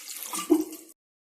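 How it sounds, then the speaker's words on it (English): Water is poured into chicken curry gravy for Mangalorean kori gassi, a short splashing pour of under a second that ends abruptly. "So that's why I'm adding a little more of water."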